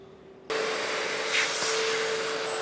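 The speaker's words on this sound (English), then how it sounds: "Charles can give us a hand. Oh, yeah, Charles. And see if he can suck that out" A vacuum cleaner switches on abruptly and runs with a loud, steady whoosh as it sucks debris out of holes drilled under a Volkswagen Crafter van during a campervan conversion. It is close and continuous, with no talk.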